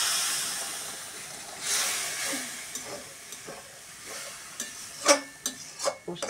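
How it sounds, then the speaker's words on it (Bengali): Spice masala being stirred and fried in a pan, a soft steady sizzle with scattered scraping stirs and a few sharper clinks of the spoon toward the end, close and fairly quiet. "মশলাটা সুন্দর করে কষিয়ে তারপর ভালো করে নেড়ে চেড়ে"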